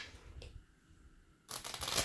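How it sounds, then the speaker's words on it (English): Playing cards for a tabletop card game are shuffled close by, a soft riffle and flutter at the start and a louder, brighter burst of riffling in the last half second, with no talking. "Let's go ahead and shuffle that one."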